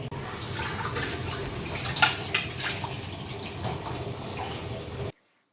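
Soaked lentils washed in water, with sloshing, swirling and dripping sounds close by for about five seconds, a couple of sharper splashes midway, then sudden silence.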